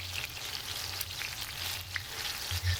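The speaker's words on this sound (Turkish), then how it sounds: "Hafiften patlıcan dilimlerine şöyle ayırarak patlıcanları kızartıyorum" Steady hissing sizzle of eggplant slices frying in hot oil, close up and continuous, with a faint low hum underneath.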